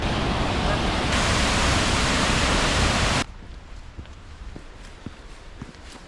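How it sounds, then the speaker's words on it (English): Steady roaring rush of a waterfall in Johnston Canyon, Canada fills the first three seconds, then cuts to a quieter outdoor ambience with faint scattered taps. "Another set of waterfalls."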